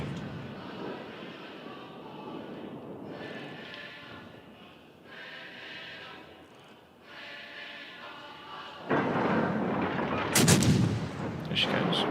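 Naval video game battle with warship guns firing concentrated salvos, heavy booming blasts and rumbling roars in uneven bursts, swelling into a louder, sharper barrage near the end.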